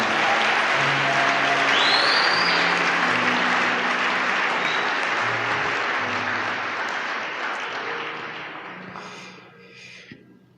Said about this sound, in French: Est-ce qu'on peut acclamer le Seigneur pour notre chorale?